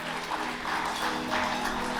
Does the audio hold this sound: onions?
no